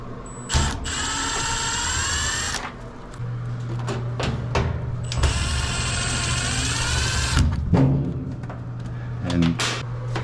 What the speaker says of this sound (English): Remove these screws.